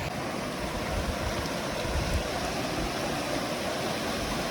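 Big river rushing past a hiking trail crossing on the Pacific Crest Trail near Mt Whitney, a constant dense roar of flowing water with no voices.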